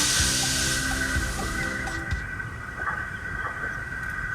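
A steam engine pulls a passenger train in, its steady hiss and rumbling rail noise running continuously and fairly loud throughout.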